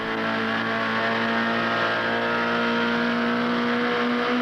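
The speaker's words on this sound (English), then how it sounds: "180 degree sweeper, accelerating out of the turn. Third gear, back in the fourth gear" A 1971 Datsun 510 race car powers out of a fast 180-degree sweeper, its engine holding a loud, steady high-pitched drone with rising harmonic tones, close and continuous.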